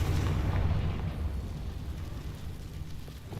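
A Confringo blasting spell explosion in the video game Hogwarts Legacy, a loud low booming rumble that hits at once and slowly fades over a few seconds, with no voices.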